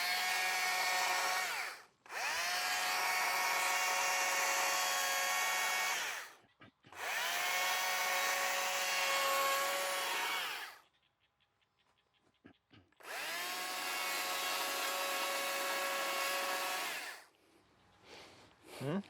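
A chainsaw carving a wooden gnome sculpture runs in three long, loud, steady bursts with short pauses between them, then gives a few idling sputters near the end.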